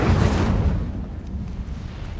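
An Incendio fire spell cast in Hogwarts Legacy, a sudden loud whooshing burst of flame that fades out over about two seconds.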